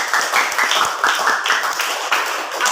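A classroom group claps together for a student's answer, a steady, fairly loud patter of many hands lasting a few seconds.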